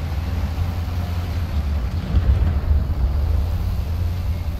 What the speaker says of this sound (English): I hear an engine coming from this direction.